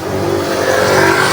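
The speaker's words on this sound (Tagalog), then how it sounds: "May dumating pa isang tricycle dito." A motorized tricycle pulls up on a rainy day, its engine revving loudly and close with a rough, steady roar that swells slightly toward the end.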